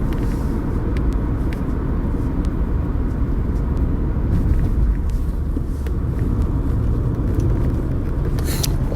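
A car drives along the road, heard from inside as a steady, loud low rumble of engine and road noise that lasts the whole time without a break, with no voices.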